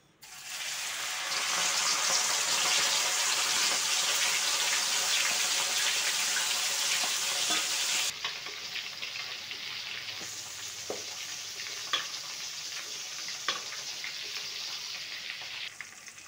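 Batter-coated prawn pakodas go into hot oil in batches; a loud, dense sizzle fills the first eight seconds, then settles into quieter bubbling with occasional sharp pops.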